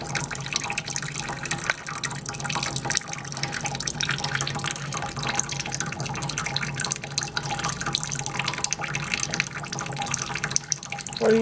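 A bearded dragon splashes in bathtub water, giving a steady, close wash of sloshing and dripping with no talk over it.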